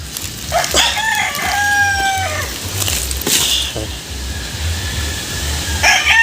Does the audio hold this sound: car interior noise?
no